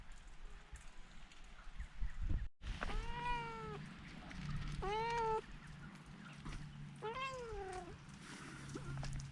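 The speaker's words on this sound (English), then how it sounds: "A very unhappy cat being put outside." A distressed house cat meows loudly three times in drawn-out, wavering cries as it is put outdoors at a country chateau, with a faint background hum between calls.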